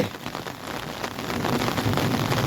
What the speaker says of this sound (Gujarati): ભયંકર વરસાદ